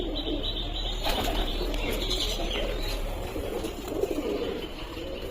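Wings flap in rustling bursts close by in a pigeon loft, with soft pigeon cooing and steady background hum throughout.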